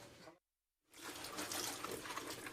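Hot water running from a household tap, a steady hissing gush that cuts out briefly and then flows on continuously, close and moderately loud.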